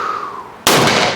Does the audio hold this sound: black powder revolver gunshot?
yes